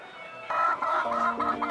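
Chickens on a mission farm cluck in short, close bursts, several quick calls overlapping softly with no voices.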